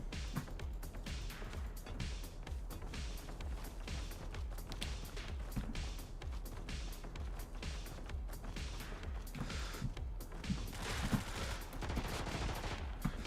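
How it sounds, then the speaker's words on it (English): Enemy gunfire in the game Brigador Killers keeps up a dense, steady stream of rapid automatic shots with crashing impacts, busy and unbroken throughout. "that guy is shooting something more potent and a bit more concerning"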